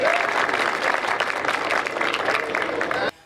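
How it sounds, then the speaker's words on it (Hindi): Audience applause at a Hindi comedy poetry gathering, a dense, steady wash of clapping that stays loud for about three seconds and then cuts off abruptly. "एक बार आगे से पीछे तक जोरदार तालियां बजाकर मुझे मन दीजिए"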